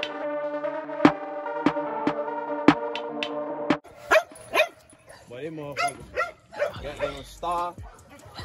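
Deep barks from gamebred bulldogs in a kennel yard, a run of loud evenly spaced barks up front, then someone talks over more scattered barking.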